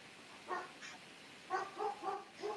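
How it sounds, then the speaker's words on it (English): A dog barks in a house, answering another dog heard nearby; four or five short, fairly loud woofs come in a quick irregular burst with a pause after the first couple, no talk. "Somebody's dog hearing my dog."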